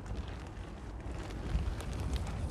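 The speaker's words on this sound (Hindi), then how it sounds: "बाहर मस्त हवा चल रही है" Wind blows outdoors across the microphone beside a parked Maruti Suzuki Ertiga, a steady low rushing roar with gentle gusts and no voices.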